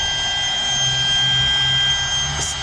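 A DeWalt cordless router motor runs at a steady high-pitched whine, close and continuous, with a faint low hum underneath and a brief sharp tick near the end.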